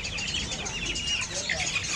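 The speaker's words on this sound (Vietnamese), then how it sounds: "À gà lôi đấy hả? Ờ gà lôi đấy." Pheasants at a wild animal market cluck and chirp in short, busy bursts close by, with overlapping calls over a low background hum.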